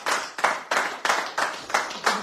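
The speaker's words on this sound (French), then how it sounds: "Mais oui, vous pouvez applaudir" Clapping from a small radio-show studio audience, rhythmic bursts of applause about three per second, close and moderately loud, no voices.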